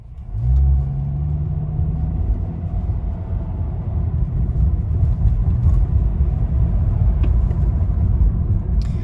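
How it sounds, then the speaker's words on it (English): A 2013 Honda Accord with a CVT accelerates moderately, heard from inside as a steady low rumble of engine and road noise that rises briefly at the start and then holds evenly. "let's go ahead and do some medium acceleration"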